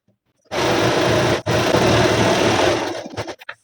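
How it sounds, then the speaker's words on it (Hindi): A sewing machine runs a finishing seam along the waistband of heavy-size palazzo pants. It whirs loud and steady, stops briefly, runs again and then slows to a few short bursts. "अब हम इसमें फिनिशिंग के लिए एक सिलाई और डालेंगे यहाँ पे, एक पैर का मार्जिन रखते हुए।"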